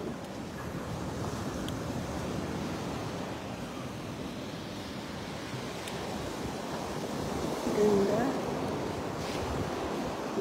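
Ocean surf washing steadily onto a clean beach, a continuous low rumble of breaking waves with wind noise, swelling slightly toward the end while a voice speaks briefly.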